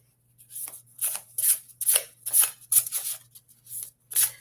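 Cards shuffled for a reading, a run of about nine crisp riffling bursts in quick rhythm, close and clear over a faint low hum, with no talk.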